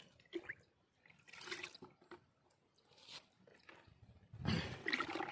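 Pesticide mixture being poured into a bucket of water for a sprayer tank, heard as faint, intermittent splashes and trickles close by, with a louder pour near the end.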